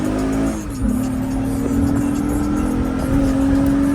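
An 8th-generation Honda Civic's J-series engine revs up from inside the car, its pitch dipping with a gear change and then climbing steadily as it accelerates hard.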